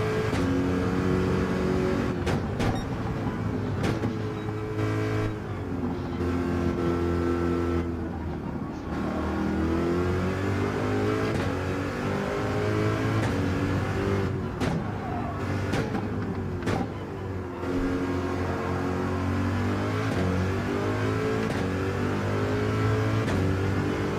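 A race car on its outlap at Bathurst in Gran Turismo 7, with a loud, continuous engine drone that rises and falls in pitch through gear changes, close and constant throughout.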